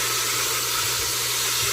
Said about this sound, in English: Just flipping these over so they can saute on each side.